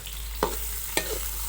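Six chopped onions go into hot ghee, a low steady sizzle marked by two brief sharp clatters of utensil on pan, close and quiet with no voices.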